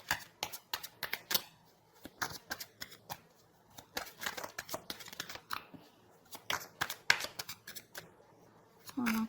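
Tarot cards are shuffled by hand in quick crisp riffling bursts, near and fairly soft, repeated through the stretch, with brief talk near the end.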